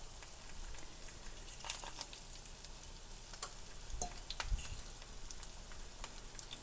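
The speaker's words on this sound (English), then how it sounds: "over the crackling sounds of the pans" Daylily frying in hot cast iron pans, crackling and sizzling, with scattered sharp pops and spatters over a low steady hiss. No voices.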